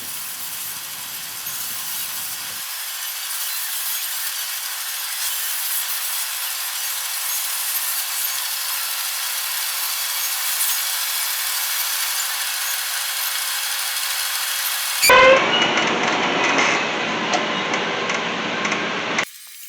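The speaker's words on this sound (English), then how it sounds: "This machine is a metal cutting horizontal saw" A horizontal metal-cutting saw cuts through washer stock with a steady, loud grinding drone that holds for most of the time, then shifts to a harsher, brighter rasp near the end before stopping.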